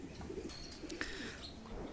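Pigeons coo softly inside a pigeon house on a farm, low murmuring calls and faint chirps over a quiet, airy background.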